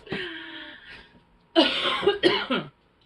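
A woman coughs close to the microphone, one drawn-out throaty cough followed after a pause by a burst of two or three harsher coughs.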